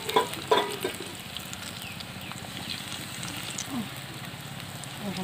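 Fritters fry in oil in a wok, a steady close sizzle and crackle with a few bubbling pops and utensil taps near the start.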